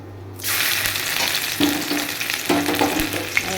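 Steady sizzling of food frying in a pan before ginger and garlic go in, loud and close, with a few scraping stirs partway through.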